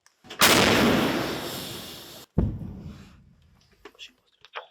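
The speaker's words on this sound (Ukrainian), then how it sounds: "Постріл. Постріл." A massive artillery blast erupts and roars for nearly two seconds, followed by a second boom that fades out, then a few faint clicks, in Bakhmut.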